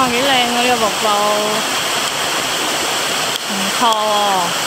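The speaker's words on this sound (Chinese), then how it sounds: "哇，几靓啊呢个瀑布！" A waterfall on a rocky mountain stream pours with a steady, loud rushing roar, while voices talk over it at the start and again near the end.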